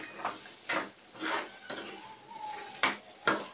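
Washed green peas go into a pan on a low gas flame for a potato and pea bhaji, heard as a handful of soft clattering knocks and scrapes of spoon and pan, faint and unhurried.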